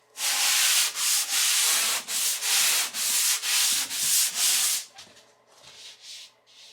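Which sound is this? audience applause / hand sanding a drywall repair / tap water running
hand sanding a drywall repair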